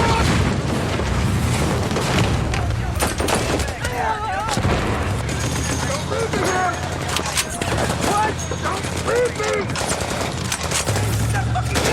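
Rapid bursts of gunfire crackle and boom continuously, dense and loud, with voices shouting faintly underneath the shooting.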